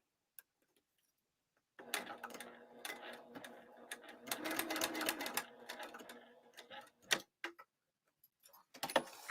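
A sewing machine stitches a bag lining through a thick corner, running in short bursts of rapid, close mechanical ticking with pauses between and a few sharp clicks near the end.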